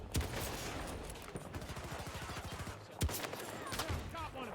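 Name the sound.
sniper gunfire in a video game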